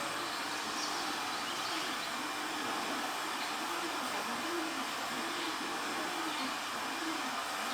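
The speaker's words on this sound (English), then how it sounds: "I'm just going to hit it quickly with the heat gun, get sort of the first flash going." A heat gun blasts hot air over freshly sprayed clear coat paint during a camper van build, giving a loud, steady whooshing roar that runs unbroken for about eight seconds.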